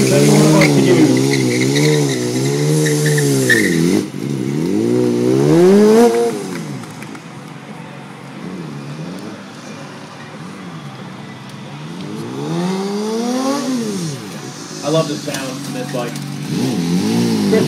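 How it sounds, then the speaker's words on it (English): A BMW S1000 RR sport motorcycle engine revs repeatedly while warming up, with several loud rising and falling blips close by, a quieter idle stretch in the middle, and someone talking over it. "Just getting this bike warmed up."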